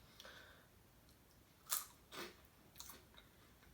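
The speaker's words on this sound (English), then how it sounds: "I'm gonna eat one of these just so you can get some crunch" A homemade edible is bitten and chewed crunchily at a mukbang eating session: a few separate crisp crunches, close to the mic and fairly quiet, with no talk during the bites.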